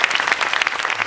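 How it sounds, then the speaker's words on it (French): Audience applause at a mountain sculpture exhibition event, a short burst of dense, steady clapping from many hands, fairly close and with no voices over it. "Allez, on peut applaudir bien fort."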